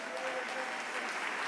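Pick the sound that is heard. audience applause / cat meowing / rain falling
audience applause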